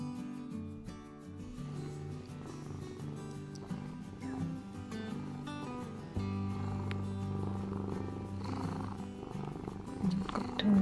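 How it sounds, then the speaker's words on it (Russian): A house cat purrs close up, a soft continuous low rumble pulsing rhythmically for around ten seconds, alone with no talking. "Как ты умеешь мурлыкать?"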